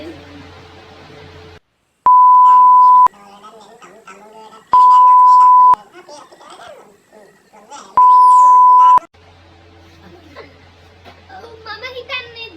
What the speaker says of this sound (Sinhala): මම හිතන්නේ දුරකථනයේ විසන්දි වුණා